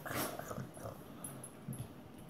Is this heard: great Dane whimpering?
yes